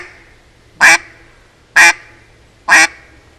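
A hand-blown duck call sounds out three evenly spaced, loud, close quacks in imitation of a mallard.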